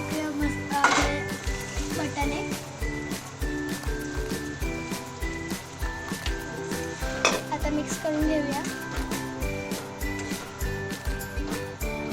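Spices sizzle and fry in an oily gravy in a home kitchen, a steady close crackle with frequent stirring scrapes and clinks of a utensil against the pan; no one speaks.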